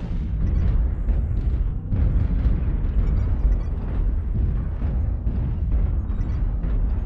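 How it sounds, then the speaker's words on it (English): Artillery strikes in a BattleTech mech combat video game land as a dense, rolling wall of heavy explosions and booms that roar steadily throughout. "Artillery strike online."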